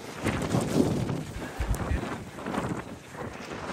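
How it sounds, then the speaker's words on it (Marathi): Strong wind blows across a hilltop campsite of tents at Rajgad Fort, a loud, continuous rushing roar buffeting the microphone with gusty low rumbles and no speech. "वारा बघा किती, सगळ्यांचे टेंट बघा"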